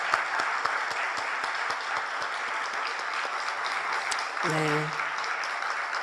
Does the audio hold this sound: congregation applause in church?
yes